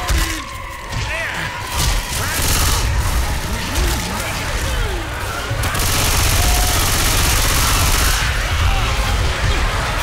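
Dense, loud gunfire and crashing impacts in the zombie shooter Left 4 Dead fill the whole stretch, with game voices and in-game chatter mixed throughout.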